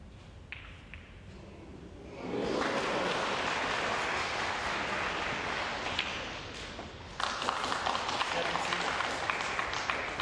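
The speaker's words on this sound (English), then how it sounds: "Crowd acknowledging that that was the ball that Stevens required to move in front" Snooker audience applauding a potted red during the 2013 Wuxi Classic quarter-final between Matthew Stevens and David Morris, a steady wash of clapping that swells after a quiet start and continues to the end, with a brief lift near the finish.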